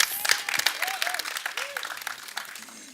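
A crowd at a television show launch applauds a director, brisk clapping with some cheering and voices layered over it, fairly close and sustained.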